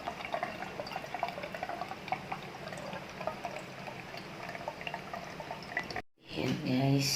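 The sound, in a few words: refilling drinking water into a tumbler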